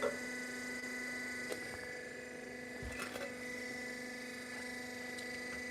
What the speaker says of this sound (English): Oh, it's the cutting machine.